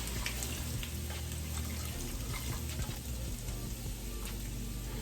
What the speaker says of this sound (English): fill this up with water 3 times and add to this